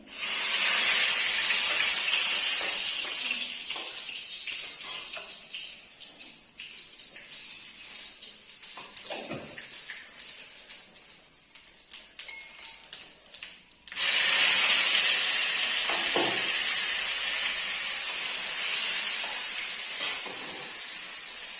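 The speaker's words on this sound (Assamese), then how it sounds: "এতিয়া মই চম্ভাৰটো দি দিম" Tempering hits a hot pan for a cauliflower and potato dish, a loud, close sizzling hiss that eases and sputters midway, then surges again just as loud.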